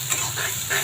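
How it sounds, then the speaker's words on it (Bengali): Chopped onion sizzles in hot oil in a wok while being stirred, a bright steady hiss with scraping swells, close and loud, no voices. "এখন আমি ভালো করে নেড়ে দিব।"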